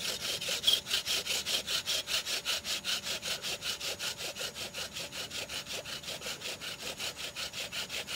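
A wooden bow drill spindle rubs against a wooden fireboard in fast back-and-forth strokes, a close, rhythmic rasping like sawing that repeats steadily, with no talk.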